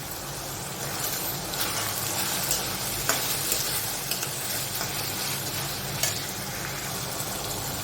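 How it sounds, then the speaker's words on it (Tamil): Garlic cloves fry in a pan with onion and tomato, making a loud continuous sizzle with some light stirring clatter throughout. "அதோட வெள்ளைப்பூண்டு சேர்த்துக்கலாம் நான் ஒரு பத்து பல் சேர்க்குறேன்"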